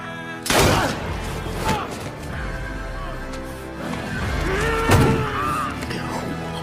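Gunfire in a war film scene, sharp loud shots cracking out amid a busy soundtrack of horses neighing, hoofbeats and effects, with bursts near the start and around the middle.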